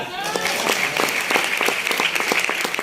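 An audience at a business leadership speech claps in a steady, rhythmic beat, with individual claps evenly spaced and fairly loud, and a voice faintly underneath.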